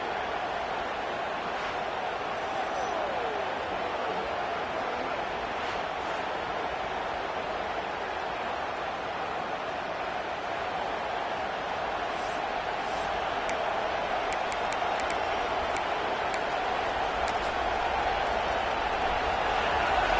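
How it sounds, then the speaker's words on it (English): A large stadium crowd at an FAU at Alabama college football game roars steadily at a distance, a continuous dense wash of cheering voices without breaks, filling the whole stretch. "Listen to the crowd energy here in the early going."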